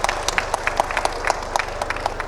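A conference audience at a Bangladesh denim panel gives a short round of applause, distinct individual claps over a low hum, moderate and sparse rather than thunderous.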